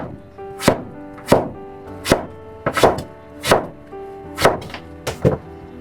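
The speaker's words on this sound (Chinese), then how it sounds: "然后切成厚一些的片儿" Knife cutting peeled pumpkin into thick slices on a board, eight or so firm, evenly spaced chops close up, each a sharp thunk.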